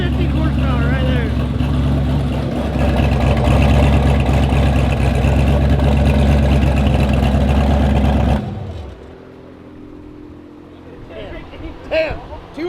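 A turbocharged car engine runs loud on a dyno with a deep, steady droning roar for about eight seconds, then cuts off abruptly into quieter room noise, with voices talking over the engine.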